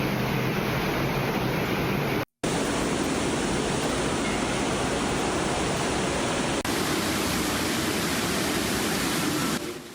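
Floodwater rushing in a broad, loud, steady roar like a torrent, continuous apart from one brief cut, with no voices.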